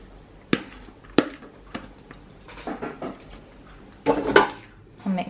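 Mince, tinned tomatoes and red lentils stirred together in a pot, giving several sharp spoon knocks against the pot and scraping sounds spread across the clip, close by and moderately loud.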